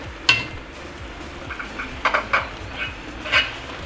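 Onions being stirred in a pan for pork bistek: a soft background sizzle broken by several sharp clinks and scrapes of a utensil against the pan, irregular and close.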